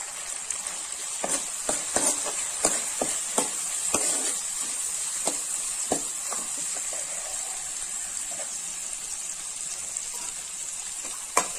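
Ingredients for a curry leaf curry are sautéed with salt and turmeric in a pan over a soft, steady sizzle, with a run of sharp spatula scrapes and taps early on that thin out later.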